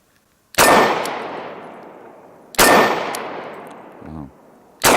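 Smith & Wesson M&P340 revolver firing at an outdoor range: two sharp, loud shots about two seconds apart, each with a ringing decaying tail, a brief low voice between them, and a third shot starting at the very end.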